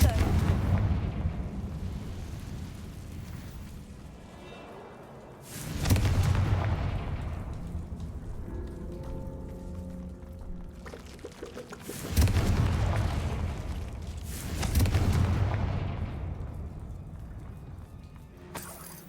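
Repeated blasting-spell explosions from the Hogwarts Legacy video game boom and rumble loudly at intervals, each burst decaying into a long roar, with game dialogue heard between blasts.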